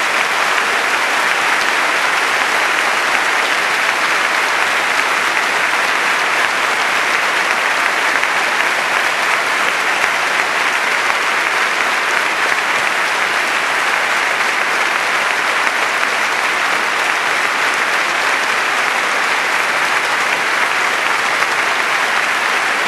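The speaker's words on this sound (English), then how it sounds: "So please, a big round of applause for our debaters." A large audience gives sustained, loud applause for the debaters at a formal public debate on China and the 21st century, a dense, even wash of clapping that holds steady throughout.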